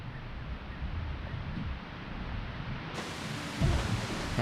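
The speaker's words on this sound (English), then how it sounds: "the waterfall." Waterfall in Ocarina of Time rushing as a continuous broadband roar, steady and fairly loud throughout, with no talk.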